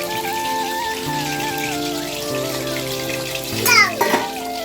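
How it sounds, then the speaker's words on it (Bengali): Chicken pieces fry in hot oil for dry chilli chicken, a continuous crackling sizzle heard close, with a voice speaking briefly over it and a short clatter near the end. "আর কতক্ষণ লাগবে ভাজতে?"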